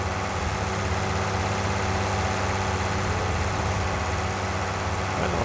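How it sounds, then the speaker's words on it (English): A small tractor engine of under 100 horsepower runs steadily, a loud, continuous low rumble with a constant drone that never varies, and no voices over it. "So this tractor's only got a small engine in it."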